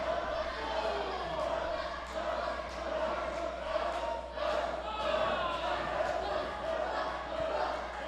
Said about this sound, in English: Crowd trying to rally behind Brody